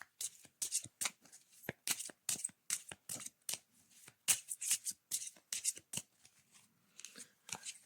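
Oracle cards are shuffled by hand in a quick run of crisp, papery riffles and soft slaps, close and fairly quiet, with no talk.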